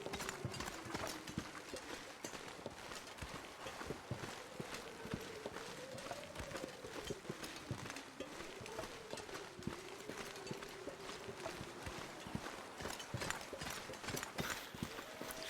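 Footsteps of a character walking through snowy terrain in the survival game The Long Dark, a steady rapid crunching tread under a constant wind hiss and a low droning tone, with no talking.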